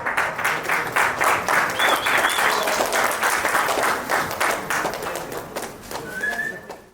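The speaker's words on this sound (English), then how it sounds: "A big round of applause." An audience bursts into sustained, dense clapping, loud and continuous for several seconds before tapering slightly at the end.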